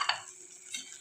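Carrot halwa with chopped dry fruits being stirred in a pan: a soft scrape and faint sizzle, with a brief louder stir near the start and another halfway through, close by and quiet.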